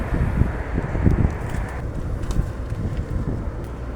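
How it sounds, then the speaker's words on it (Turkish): Steady strong wind roaring and buffeting the microphone, a constant rough rush of noise with no voices. "rüzgar sertleşmeye başladı"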